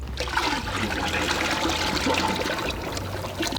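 Dead Sea mud is added to water and whisked quickly for cold process patchouli mud soap, giving a continuous close, wet sloshing and trickling sound at moderate loudness.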